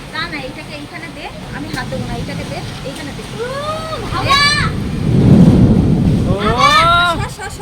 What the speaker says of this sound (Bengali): বাইরে ঝড় বৃষ্টি হচ্ছে